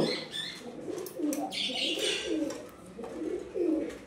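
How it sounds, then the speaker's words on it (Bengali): Shiyalkuti pigeons put together for pairing coo and murmur close by, with soft throaty calls and a brief flutter of wings partway through. "শিয়ালকুটি কবুতর ওদেরকে জোড়া দেওয়ার জন্য আবার একত্রিত করলাম।"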